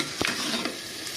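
A spoon stirs potatoes and tomatoes as they fry in a pan, giving a steady sizzle with a brief scraping stir near the start, heard alone and fairly close.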